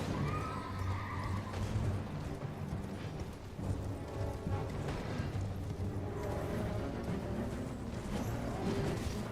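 A horse in the Elden Ring video game, neighing and whinnying loudly, with hoof clip-clop under a dense, steady wash of game sound and effects that lasts the whole stretch.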